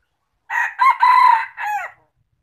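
A single loud rooster crow right near the microphone, a full cock-a-doodle-doo in four quick connected parts lasting about a second and a half, set against silence.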